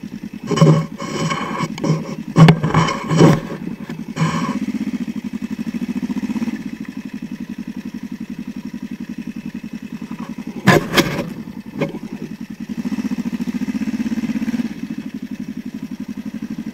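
A motorcycle engine drones steadily while riding, with a few sharp clattering knocks breaking in now and then.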